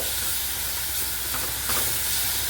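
Ginger, garlic and coriander paste frying in hot oil, a steady close sizzle and hiss with faint stirring, continuous throughout with no talking.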